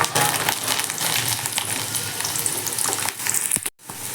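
Garlic fries in hot oil with mustard seeds and fenugreek for a tomato pickle, giving a loud, steady sizzle with crackling bursts, a brief stir, then a sudden drop near the end.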